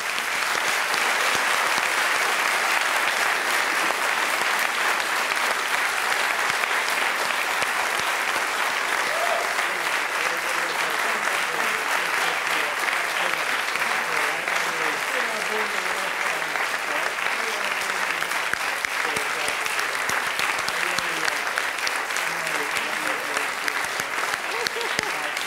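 An audience at a symposium talk applauds steadily and loudly, a dense wash of clapping that carries on without letup.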